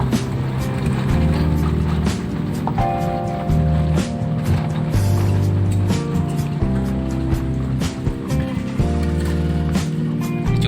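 A 2011 Toyota Avanza drives over a rough, corrugated village road, its engine drone loud and continuous with rattling jolts and bumps throughout, no voices heard.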